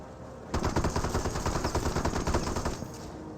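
Rapid bursts of machine-gun fire from a Company of Heroes match break in abruptly and rattle loudly for over two seconds, then cut off, with no voices over them.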